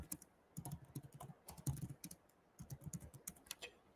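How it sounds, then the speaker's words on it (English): Fingers tap out a search on a computer keyboard in quick uneven bursts of clicky keystrokes with short pauses between words, close and fairly quiet, with no voices. "So I'm typing in installation contractor Miami."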